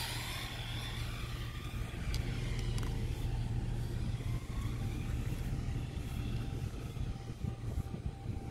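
An Absima AB3.4 RC car on 4S batteries makes a speed run, its electric motor whining steadily with a high-pitched revving tone that rises and holds, close and fairly loud, with no one talking.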